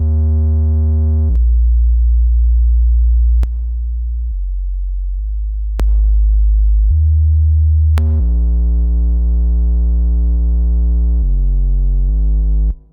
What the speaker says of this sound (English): we have a sine wave taken down by 2 octaves